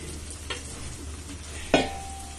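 Fried hilsa fish pieces go into a pan of simmering curry with raw banana and potato, a soft bubbling sizzle broken by a couple of sharp clinks and scrapes of a spoon stirring against the pan.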